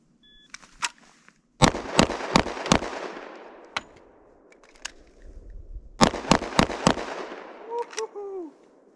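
Handgun shots ring out sharply during a timed shooting drill: a lone early shot, a rapid string of four, scattered single reports, then another quick burst of four. Loud and close, with a faint voice near the end.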